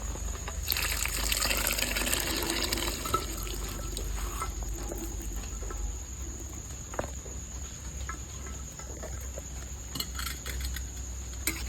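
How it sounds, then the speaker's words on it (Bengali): Boiled chickpea masala is poured into a pan, a brief soft wet pouring rush early on that then settles into faint, steady background hiss, with no voices. "এবারে সেদ্ধ করা চানা মশলাটা আমি ঢেলে দেবো"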